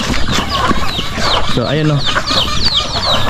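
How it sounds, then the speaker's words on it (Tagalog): Farm turkeys gobble and call in short bursts close by, with one gobble standing out midway, all mixed under a person talking. "Ayan yung aming mga pabo dito."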